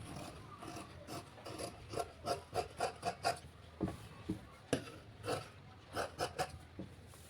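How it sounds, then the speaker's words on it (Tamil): Fabric being cut for the front piece of a size 43 blouse, heard as a run of soft rasping scissor snips, close and fairly regular, some quick clusters with short pauses between. "நம்ம இந்த ஃப்ரண்ட் பக்கத்தை கட் பண்ணிக்கலாங்க"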